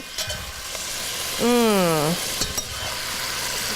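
Pancetta and peppers frying in a pot and being stirred, a steady close sizzle with scraping stirs; a brief whining tone rises and falls partway through.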